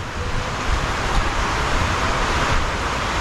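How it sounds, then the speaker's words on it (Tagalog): Strong typhoon wind roars steadily, a loud continuous rushing that buffets the microphone throughout. "Malakas na naman ang hangin."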